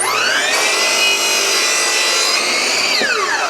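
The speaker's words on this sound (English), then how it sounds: "Another thing people do when they're cutting their miters is they'll cut them on the miter saw" Power saw blade ripping through wooden trim, a loud, steady whine from start to finish, with the pitch shifting as the cut begins near half a second and again as it winds down around the three-second mark.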